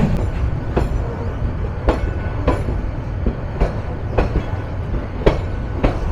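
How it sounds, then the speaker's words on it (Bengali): Turna Express night train running through Bangladesh at speed, heard from inside with a constant loud rumble and regular sharp clickety-clack wheel beats on the rail joints, no talk. "সেমি ননস্টপ পূর্বাঞ্চলের নাইট কুইন তুর্না নিশিতা যাত্রা শুরু করলো"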